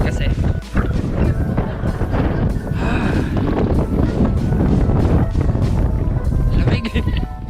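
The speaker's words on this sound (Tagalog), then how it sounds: "Eh, ang lakas ng hangin." Strong gusting wind on the seashore at Oryukdo Skywalk, South Korea, buffets the microphone in a loud, continuous roar, with a broad rushing hiss throughout and brief dips in intensity.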